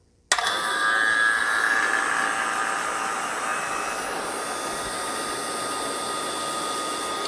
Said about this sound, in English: So we're going to turn our vacuum pump on now.